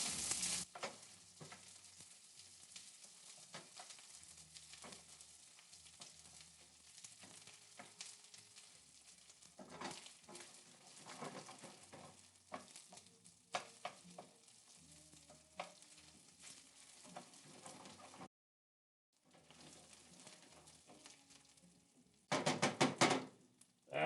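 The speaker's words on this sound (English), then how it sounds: "I'm going to fry that around." Ingredients sizzle and fry in a pan in a culinary arts kitchen, with steady crackling, occasional utensil knocks and stirring scrapes, a brief pause, then a loud burst of fresh sizzling near the end.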